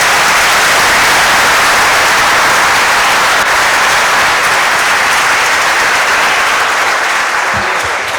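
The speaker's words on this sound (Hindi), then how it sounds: "इस बच्चे के लिए पहले ताली बजाएंगे।" Loud, sustained applause fills a hall as an audience claps for a child, a dense, even roar of many hands lasting several seconds with no voices rising above it.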